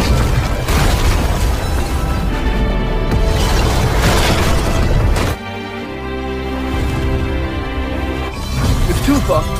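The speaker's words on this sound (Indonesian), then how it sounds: "Suchan pun berhasil mengaktifkan meriam Kowloon sekaligus berhasil mengusir militer Inggris" Film scene with the Kowloon cannon firing and explosions: continuous heavy booming and crashing roar, a sudden cut to a quieter rumble, then another loud burst, mixed with voices.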